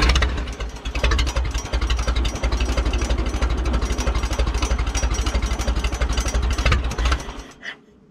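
A 1957 Case 310 Terratrac loader engine idles up close with a loud, rapid, even chugging knock for several seconds, then dies out and falls quiet near the end.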